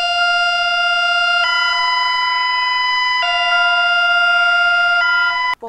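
A loud, steady electronic emergency alert system alarm tone with stacked harmonic pitches, shifting in stepped segments, sustained for several seconds before cutting off abruptly.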